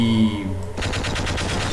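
A quick burst of rapid gunfire rattles from a weapon in the Half-Life video game, sharp repeated shots following a brief tonal lead-in, loud and close.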